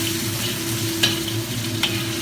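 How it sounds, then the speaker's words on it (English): Garlic, ginger and chili peppers stir-frying in a hot wok for mapo tofu, a loud close sizzle with a low steady hum beneath and two sharp scraping clicks of a utensil. "your garlic, your chili peppers, and after that, give it a good stir"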